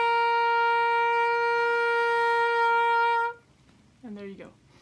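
A sustained oboe note is held steadily for about three seconds without a break for breath, played using circular breathing, then it stops abruptly and a shorter, lower note follows after a brief pause.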